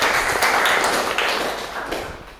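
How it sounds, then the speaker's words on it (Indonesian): A group claps together in a classroom, dense and loud at first and then gradually thinning out over a couple of seconds. "Kita tepuk tangan dulu ya sebelum ada tanggapan."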